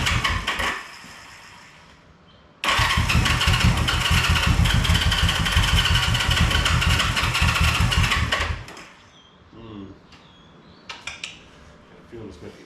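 A 1974 Honda CB360 twin that has been sitting in storage cranks loudly and unevenly for about six seconds as both cylinders struggle to catch, then the starter falls quiet and faint clinks follow.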